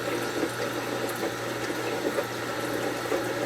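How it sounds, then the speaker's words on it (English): An AquaClear 500 gallon-per-hour hang-on-back aquarium filter running on a goldfish tank, giving a steady close rush of trickling, splashing water with a low pump hum underneath. "I have one of those hang on the back, the 500 gallon an hour aqua clears. There it goes"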